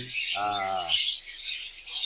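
Pet lovebirds chatter in a steady, high chirping wash that runs through the whole moment, with one short lower, buzzy call near the start.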